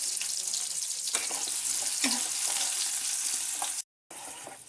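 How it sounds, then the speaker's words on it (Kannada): Chopped onions fry in hot oil for a tempering, a steady close sizzle with scattered scraping stirs, briefly cut to near silence near the end before the crackle resumes. "ಇವಾಗ ಇದಕ್ಕೆ ಈರುಳ್ಳಿನ ಹಾಕತ್ತೇನೆ"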